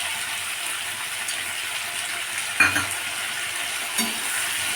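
Spice paste with garlic and chopped tomato being stirred and sautéed in a pan for a fish dish, a steady close sizzle with a couple of brief scraping knocks, no voices.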